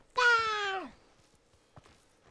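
A single cat gives one clear, drawn-out meow that falls in pitch at the end, followed by a couple of faint thumps in a quiet room.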